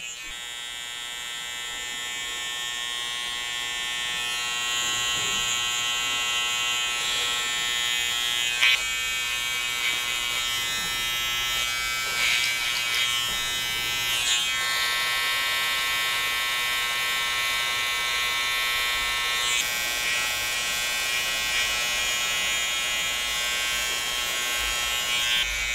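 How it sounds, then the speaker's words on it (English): An electric hair trimmer tidies the neckline during a scissor haircut, giving a steady, close buzz that runs unbroken from start to finish with no talking. "So I've switched trimmers just because I find these a bit smoother."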